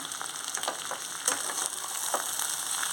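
Eggplant curry with green chilies and red chili powder sizzles in a pan while a spoon stirs it. A continuous hiss of frying runs under intermittent scraping strokes, close and moderate, with no talking.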